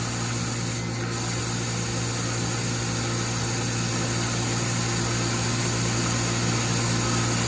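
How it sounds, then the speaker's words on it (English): A small grinder powered by an Anker SOLIX F2000 portable power station runs with a steady, loud, high-pitched motor whine and constant hum throughout, alone with no speech. "Turn on the small grinder."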